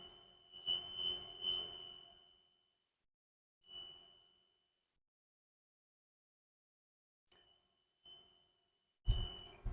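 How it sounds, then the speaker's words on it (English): A high-pitched electronic emergency exit alarm on a school bus beeps in several short bursts separated by silent pauses, close and clear. "open it and check the audio and visual alarm"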